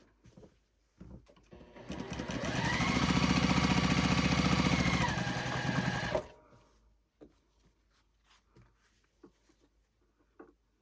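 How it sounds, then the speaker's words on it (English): Sewing machine stitching quilt squares together: a few setup clicks, then a steady whirring run of about four seconds that rises and cuts off, followed by scattered handling taps and rustles, close by. "So I'm going to take that and sew it onto all of the squares in column 2."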